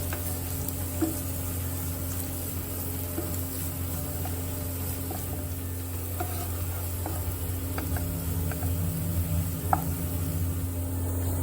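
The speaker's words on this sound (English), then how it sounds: "We'll add ginger garlic at this stage. Stir this for 2 to 3 minutes." Ginger and garlic sizzle steadily in a hot pan, a continuous soft frying hiss with occasional faint ticks and scrapes of stirring, over a low background hum.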